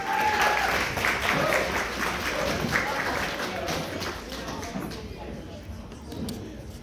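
A wedding reception crowd applauds the maid of honour with a sustained round of clapping that stays full for several seconds before tapering off, with faint murmurs underneath.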